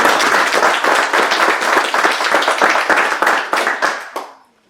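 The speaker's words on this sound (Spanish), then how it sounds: "recibamos un aplauso." An audience at a literary conference breaks into steady applause, dense and continuous hand-clapping for about four seconds before tapering off quickly to silence.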